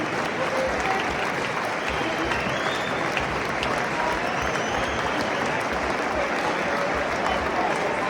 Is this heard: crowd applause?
yes